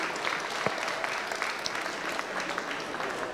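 A crowd at a comics convention interview applauds, a steady, somewhat distant wash of clapping that holds evenly throughout.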